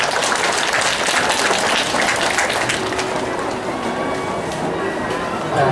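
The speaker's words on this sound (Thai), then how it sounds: "ขอเสียงปรบมือขอบคุณด้วยครับ" Applause from an audience at a bookstore talk event, a steady dense clapping that fills the whole stretch at close range, with some crowd murmur underneath.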